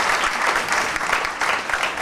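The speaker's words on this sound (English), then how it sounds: "Ladies and gentlemen, could we give him a round of applause?" An awards-ceremony audience gives a round of applause, a continuous, even wash of clapping from many hands.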